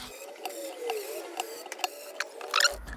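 A hand tool slowly tightens e-bike brake bolts with little torque, giving faint, close, evenly spaced ratcheting clicks over a low mechanical hum, ending in a brief cluster of sharper clicks; no voices.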